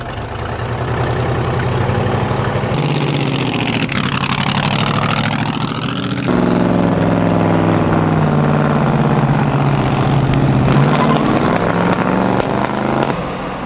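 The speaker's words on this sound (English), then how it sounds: "As this 40-year-old race car roared to life and began building a head of steam" A 40-year-old Ford Thunderbird race car, the Battlebird, fires up and roars, a loud, continuous close-up engine rumble that climbs and falls in pitch as it revs and builds speed.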